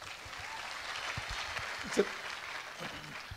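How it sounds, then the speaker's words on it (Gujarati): A crowd at a question-and-answer event in Surat claps in faint, distant applause, a soft continuous patter lasting a few seconds. "દરેક પ્રશ્ન તાળીઓ પડે છે"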